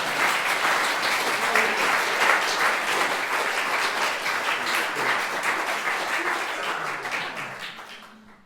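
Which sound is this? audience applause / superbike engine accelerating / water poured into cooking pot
audience applause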